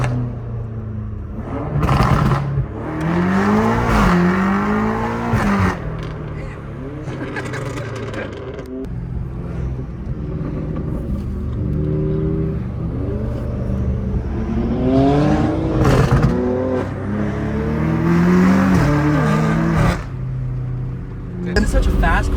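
Straight-piped BMW M cars, an M5, M4 and M3, accelerate and rev through a city, with loud rising and falling exhaust sweeps in repeated bursts while people talk inside the car.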